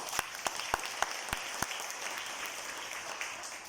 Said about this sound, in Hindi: इसको इसके लिए तालियां तो बजाओ।